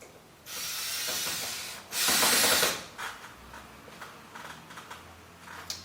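A power screwdriver drives screws into skylight shade brackets, about 1/4 inch up from the bottom of the skylight well. Two close whirring bursts of a little over a second each come first, followed by faint clicks and handling noises.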